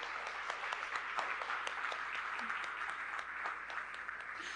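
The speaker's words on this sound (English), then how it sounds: "Can we give them a round of applause?" A graduating class receives a round of applause at a graduation ceremony: many hands clapping in a steady, fairly faint patter heard from some distance, with no voices over it.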